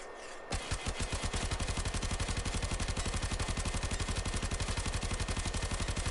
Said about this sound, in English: where you shoot the Tenora, that's where the bullets are going